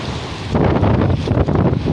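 Large ocean waves at a beach in Balugo, Leyte, breaking as a loud, continuous roar of surf with heavy wind buffeting the microphone and no voices.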